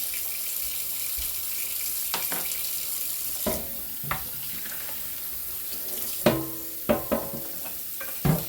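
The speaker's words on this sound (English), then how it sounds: "Let that water run for a couple of minutes." Water runs steadily from a kitchen tap, a continuous hiss with a few clunks and knocks of dishes or pans nearby, and nobody speaks.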